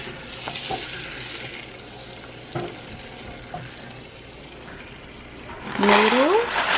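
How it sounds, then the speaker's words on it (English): Butter sizzling and being stirred in a pan on the stove, a soft continuous fry with a few scraping spoon knocks, ending in a louder swell of sizzle and clatter. "Let's just stir this butter so it doesn't burn."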